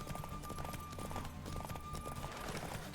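A horse gallops in the video game The Witcher 3: Wild Hunt, with quick, rhythmic hoof clops running continuously over a steady background.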